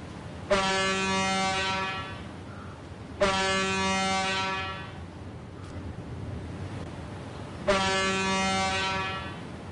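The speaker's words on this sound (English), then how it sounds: "Is a ship in the port tooting its air horns, or is that my truck?" A truck air horn blares three times in the SnowRunner game near a port, long loud sustained blasts each about two seconds with pauses between, over wind and surf-like ambience.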